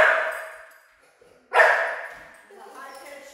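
A puppy in a training lesson gives two sharp high-pitched yipping barks with short whiny tails, loud and close, followed by softer whimpering noises.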